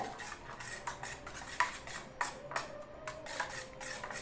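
Raw chicken is mixed with salt and chili powder in a bowl, producing close, repeated scraping and clinking of a utensil against the dish in an uneven stirring rhythm.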